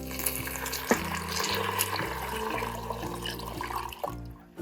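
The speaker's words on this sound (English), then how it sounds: "Now I'm going to add in the pre-measured 4 cups of water for 2 cups of rice." Water pours steadily into a rice cooker, four cups measured for two cups of jeera rice in a home kitchen, a continuous splashing stream with small clinks of the pot, close and fairly loud, no talking.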